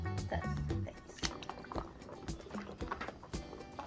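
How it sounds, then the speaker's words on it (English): Hands splashing and swishing in a container of murky water, a string of wet sloshes, drips and gurgles at close range, with a voice humming over the start. "I'm washing my hands."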